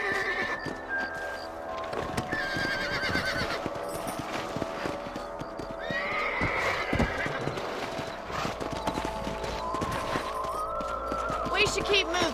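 Horses clip-clop along in Red Dead Redemption with steady hoof beats, occasional whinnies and neighs, and a game voice talking over the ride.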